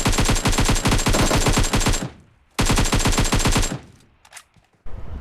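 AKM assault rifle fire in a battle royale video game, two loud, rapid automatic bursts of about two seconds each, separated by a short pause, with a few faint clicks and a brief burst at the end.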